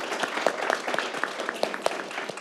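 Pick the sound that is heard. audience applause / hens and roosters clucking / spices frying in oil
audience applause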